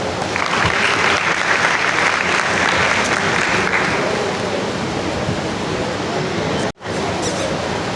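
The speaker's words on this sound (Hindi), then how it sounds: "चलिए अपने लिए जोरदार तालियां बजाएं।" A school class claps loudly for itself in a classroom, giving a thick, continuous round of applause that holds strong and ends with a brief sharp break.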